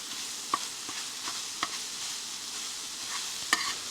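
Sausage for gravy is stirred on a smoking-hot Skottle griddle: a steady soft sizzle broken by a few sharp scrapes and clicks of the utensil, close and fairly quiet.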